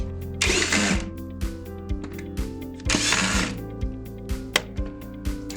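A power drill drives screws to seal the driver compartment of a JL-200 photocell receptacle light fixture, in two close, loud whirring bursts with a few light clicks and taps between them.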